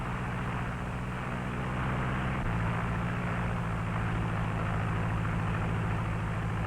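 Propeller airplane in flight recorded on old 16mm film, a steady broad engine drone with low tonal hum, loud and continuous with a slight shift in tone partway through, no voices.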